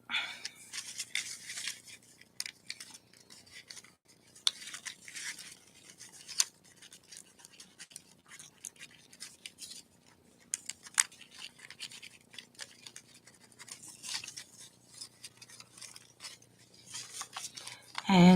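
Strips of Christmas paper pulled and slid through folds while making a German Christmas star, giving quiet bursts of dry scratching and rustling, close up, with short pauses between pulls.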